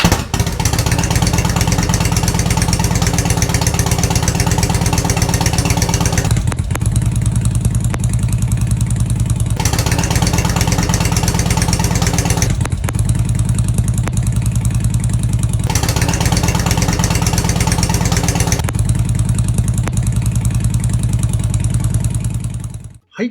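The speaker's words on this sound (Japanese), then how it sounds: "ウルトラのマフラーをシャークロードっていうね、マフラーに交換してみました" Harley-Davidson Ultra motorcycle fitted with a Shark Road muffler idles close by with a deep, loud, steady rumble, swelling in alternating louder and softer stretches over about twenty seconds.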